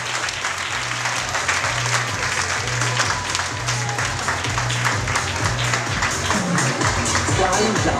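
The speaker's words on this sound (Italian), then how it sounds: "Fate un applauso, fatevi sentire." Sustained clapping from an audience at a fashion runway show, a dense, loud wash of many hands that holds steady for the whole stretch, with a low pulsing beat of music underneath.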